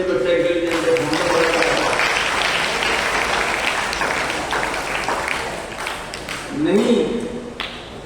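Sustained applause from a school audience fills the hall, a dense wash of clapping that runs nearly the whole time, with a voice rising over it near the end.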